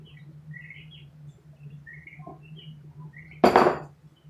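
A metal cooking pan is shifted across a home stovetop with one loud, brief clatter near the end, while birds chirp faintly in the background over a low steady hum.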